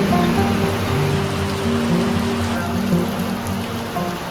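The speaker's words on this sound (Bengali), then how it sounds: "নিচে এখন হয়ে গেছে ঝেপে বৃষ্টি, সাউন্ডও শোনা যাচ্ছে" Heavy rain pours over the hills around Kalimpong, drumming onto a lake below as a dense, steady roar that stays loud and close throughout without any voices.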